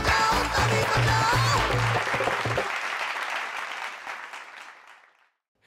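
Children clap in a comedy drama scene, a loud burst of applause over a brief musical tone that gradually thins and fades away to near silence.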